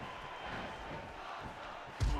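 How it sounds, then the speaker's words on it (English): A wrestling crowd at a live show chants in a rough, rolling roar from the arena stands, heard throughout the short stretch and ending in a sharp thud. "The crowd saying this is awesome."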